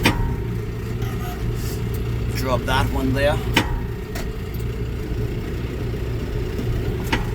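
A tractor engine idles with a steady low rumble while hay bales are moved, continuous throughout with a brief mechanical whir, and someone speaks over it.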